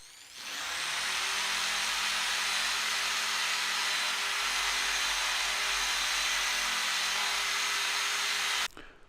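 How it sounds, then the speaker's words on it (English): A drill spinning a rough cleaning wheel against cast metal, a steady loud whirring grind that runs unbroken for about eight seconds before stopping abruptly. "we can go at it with the rough wheel"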